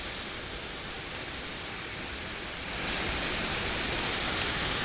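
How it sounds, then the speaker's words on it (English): A waterfall along a steep switchback mountain trail in Colorado's Maroon Bells area roars with a dense, constant rush of falling water, growing slightly louder partway through. "check out that waterfall"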